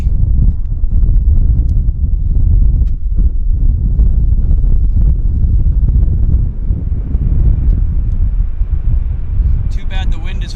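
Strong wind buffets the microphone at an airport beside the runway, a loud, constant low rumble that drops off briefly near the end.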